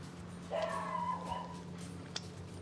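A dog lets out a short whine that rises into a yip, with a sharp bark-like burst near the end, over quiet background hum.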